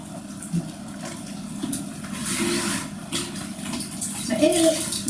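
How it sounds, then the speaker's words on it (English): Leftover water is poured out to rinse the bottom of a bathtub, a steady splashing gush of moderate loudness with some gurgling near the end. "So any leftover water, you can just pour it out to rinse the bottom."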